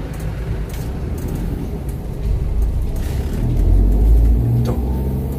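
A Toyota Avanza engine drones from inside the moving car, a low rumbling hum that swells and strains as it revs up toward a gear change, steady and fairly close.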